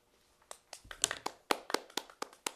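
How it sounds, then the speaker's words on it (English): A small group at a speakers' club meeting claps sparsely, individual sharp hand claps starting slowly and building into a loose, uneven patter of a few people, close and distinct in a quiet room. "we applaud all the time to keep excitement up"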